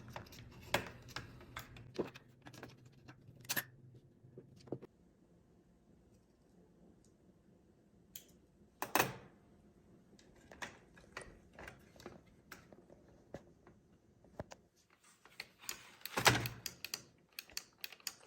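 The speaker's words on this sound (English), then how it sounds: "So we have that trigger, 2 clicks, you hear that? Click 1, click 2, click 1, click 2." A modded Nerf Rival Prometheus double trigger gives sharp plastic clicks in small bursts, close and dry, with quiet mechanical handling noises between pairs of clicks.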